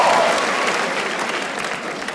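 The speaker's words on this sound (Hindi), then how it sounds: "एक बार जोरदार ताली बजा दो सबके लिए भाई" Steady applause from a stand-up comedy audience, dense and even, gradually tapering slightly over a couple of seconds.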